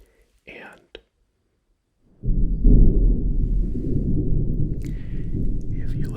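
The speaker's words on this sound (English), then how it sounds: "it appears a cozy thunderstorm is starting to roll on through" Thunder from a thunderstorm breaks in after a couple of soft whispered sounds, then rolls on as a loud, long, deep rumble that fills the rest of the clip.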